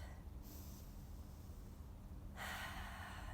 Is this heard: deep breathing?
yes